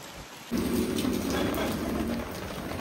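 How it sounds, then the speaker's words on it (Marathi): Rain pours and thunder rumbles at a beach resort, a steady loud wash of rainfall that sets in abruptly after a brief quiet moment and continues throughout. "आम्ही आल्या पावसाने सुरुवात केलेली आहे."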